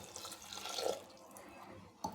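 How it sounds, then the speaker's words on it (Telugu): A glass of water pours into a pressure cooker holding lentils and cumin for about two seconds, a steady splashing rush that tapers off, with a small clink near the end. "1 గ్లాస్ వాటర్ వేసేసుకుందాం."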